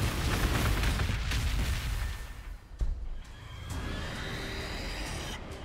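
Gunfire and explosive impacts hit units in the Warhammer 40k: Gladius strategy game, a dense roaring barrage with a sharp crack near the middle, continuing at a lower, steadier level afterward.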